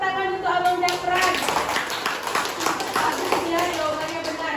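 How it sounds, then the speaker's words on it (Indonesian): Children in a primary school classroom clap for a classmate, a burst of brisk, moderately loud, overlapping claps. Voices can be heard mixed in with the clapping. "Tepuk tangan untuk Abang Zafran."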